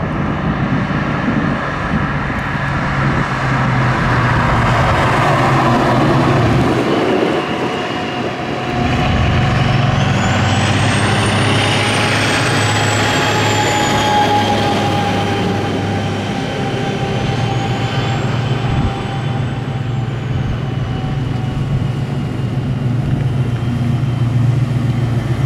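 1969 Chevelle convertible engine pulling hard under acceleration, a loud continuous roar with wind and road noise heard from inside the car, easing briefly before building again.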